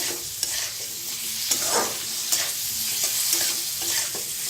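Cauliflower florets fry in hot oil with a steady, close sizzle while occasional stirring scrapes and clatters through the crackle, with no voices.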